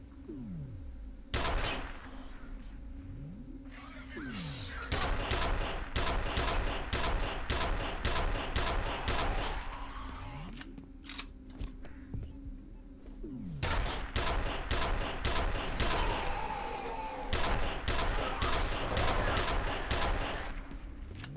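Automatic security gun in a video game firing in long rapid bursts, loud and sustained, with short pauses between volleys and a steady game hum underneath.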